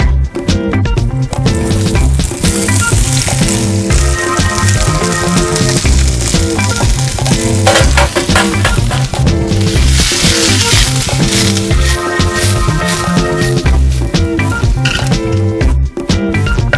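Kantola and tindli stir-fry loudly in vegetable oil, a constant close sizzle with scraping and stirring clatter running steadily throughout.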